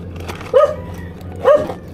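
A dog barks twice by a riverside in Pasig during urban fishing, two sharp nearby barks about a second apart over a low steady background hum.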